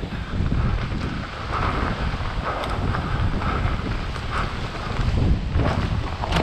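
Strong gusting wind buffets the microphone during a mountain bike enduro descent, a loud continuous low roar that swells and eases throughout without a break.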